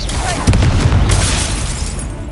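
A Confringo fire-blast spell explodes in Hogwarts Legacy, a loud booming burst with a rumbling, crackling tail that fades over a couple of seconds.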